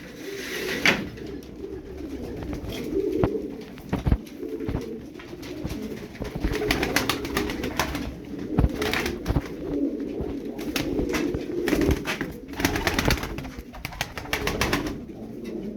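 About twelve tumbler pigeons coo steadily throughout, a low continuous murmur of several birds close by, with occasional wing flaps and knocks.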